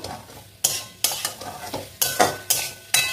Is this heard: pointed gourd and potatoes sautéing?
yes